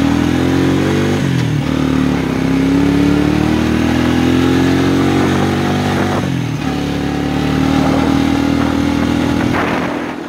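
A 1992 Quadrunner 300 ATV engine runs steadily after sitting five or six months, a loud, continuous mid-pitched drone with slight rises and dips in revs and a brief throttle change near the middle, heard alone outdoors on a logging trail.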